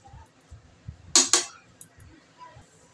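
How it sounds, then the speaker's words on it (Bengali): Fried potato strips tossed in a bowl give two quick, bright clinks of utensil against the bowl midway, with soft faint rustling before and after. "আলু ভাজাটা এবার মিশিয়ে নেব।"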